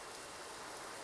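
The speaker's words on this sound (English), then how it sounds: "It's raining again." Rain in a flight simulator, heard in a Boeing 737-8 cockpit on approach to Piarco, forms a faint, steady hiss of falling drops with no voices.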